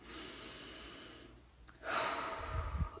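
A slow, deep breath drawn in during a guided forgiveness meditation, a soft airy inhale that swells near the end, close and alone with no talking.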